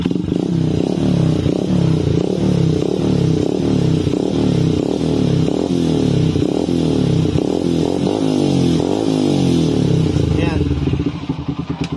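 A motorcycle engine revving up and down in a workshop while its faulty rectifier regulator causes overcharging, a loud, steady rumble with rhythmic throttle pulses throughout.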